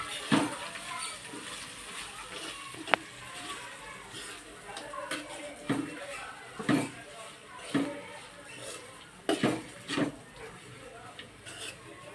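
Dry puffed rice stirred in a pan for a snack, giving light, scattered scraping and ticking clicks at an uneven rhythm, close by and fairly soft.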